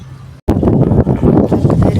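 Strong cyclone-season wind buffets the microphone outdoors beside a well, a dense, steady roar with rough gusting. It cuts out briefly near the start, then returns at full strength.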